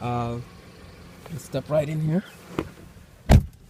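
A 2015–2016 Mercedes-Benz C-Class C300 sedan with a 4-cylinder engine idles with a low, buzzy rattle, clearest at the start, then fading under someone talking nearby and a door opening.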